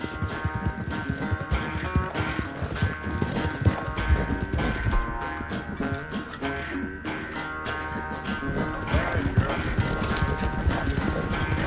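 Horse hooves clip-clop at a steady walking rhythm in the Red Dead Redemption 2 video game, close and clear, with a whinny and tack noises mixed among the footfalls.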